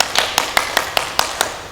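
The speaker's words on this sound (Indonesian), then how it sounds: "Ayo coba dulu semuanya tepuk tangan yang kencang." Children at a Sunday school service clap their hands in a quick, even rhythm, about eight sharp claps in under two seconds, close and fairly loud.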